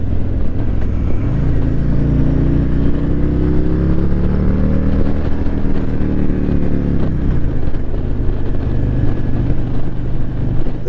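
A Harley-Davidson motorcycle accelerating through a turn, the engine drone climbing steadily in pitch as the throttle rolls on, then easing off, loud and continuous from close by with wind noise throughout.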